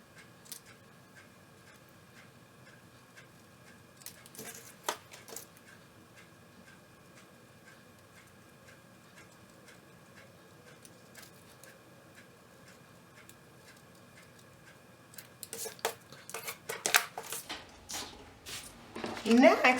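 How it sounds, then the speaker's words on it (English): Scissors trim excess from stamped paper pieces for a handmade card, giving faint, sparse snips and ticks at close range, with a busier run of cutting and paper handling near the end. "I'm going to trim off my excess here"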